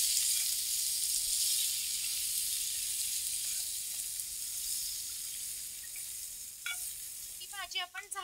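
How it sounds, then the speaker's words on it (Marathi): Chopped okra frying in hot oil makes a loud, steady close sizzle that eases slightly, followed by a few quick scraping clicks near the end. "आता आपण ज्या भेंड्या चिरल्या होत्या त्या सगळ्या ह्याच्यामध्ये घालून घेऊया"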